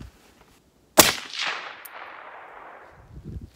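Single sharp rifle shot from a Ruger Precision .308 firing Federal Power-Shok ammunition outdoors, a loud close crack followed by a long rolling echo that fades over a couple of seconds.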